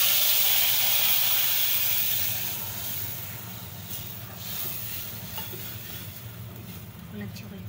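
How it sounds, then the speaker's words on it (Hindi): Sugar syrup poured into roasting golden semolina for halwa sets off a loud, bright sizzle that eases into a steady, bubbling hiss with faint stirring scrapes, close up. "अब मैं शीरा डाल रही हूँ इसके अंदर"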